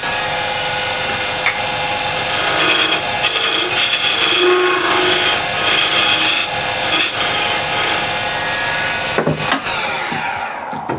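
A tool scraping and rubbing against a walnut burl tenon spinning on a wood lathe, a loud steady rasping hiss over the motor's hum, ending with a short change as the cut lifts off.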